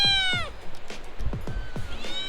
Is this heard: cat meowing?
yes